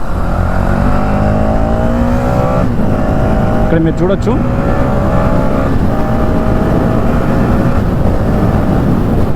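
A 2025 Hero Xtreme 250R motorcycle pulls hard through its gears, the engine note climbing in pitch over steady road rumble, loud and close, while someone talks briefly.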